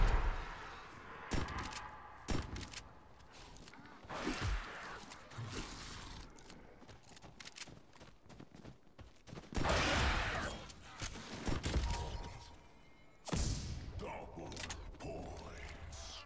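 Pump shotgun firing in the video game Outbreak: several sharp, loud blasts spaced irregularly, with mechanical pump clacks between them, heard alongside game noise.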